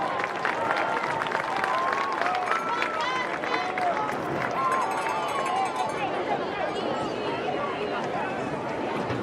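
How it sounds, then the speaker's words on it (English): Crowd in the stands at a high school football game between Lebanon and Northmont, cheering and clapping for the marching band in a broad, sustained wash of noise, with voices calling out through it. "Let's give our marching band one more round of applause."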